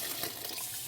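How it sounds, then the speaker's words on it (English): Three cups of water pour into a pot of peas for Jamaican rice and peas, a steady close gushing splash with no talk. "I'm going to add 3 cups of water to sink our peas"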